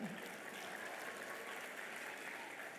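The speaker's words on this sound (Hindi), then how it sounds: "तालियां मारो ना भाई," Audience at a school event clapping in a steady, moderately loud wash, with some indistinct voices underneath.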